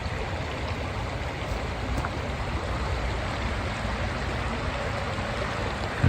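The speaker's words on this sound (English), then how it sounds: "the water is definitely up and it's noisy" Swollen, noisy stream rushing through a canyon on a cold night, a loud, unbroken wash of running water that stays steady throughout.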